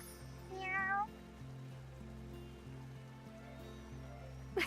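A cat gives a short, rising meow in the Wylde Flowers video game over a steady background hum and patter, followed by a brief sharp sound at the very end.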